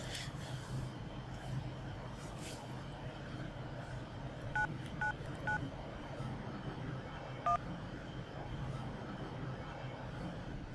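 A phone is speed-dialed, a short run of four quick keypad tones followed by a lone fifth beep, faint over a low steady background hum.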